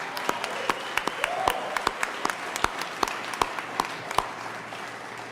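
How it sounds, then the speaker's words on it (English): Sparse applause from a small audience at a Colorado U.S. Senate Republican primary victory event, scattered distinct claps spaced unevenly and moderately close, without a full dense crowd roar. "Ron deserves a round of applause for his willingness to run and to serve."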